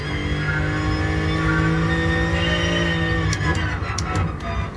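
Race car engines roar in a Gran Turismo Sport endurance race, a loud sustained drone of several cars close together with shifting pitch and a few brief higher squeals near the end.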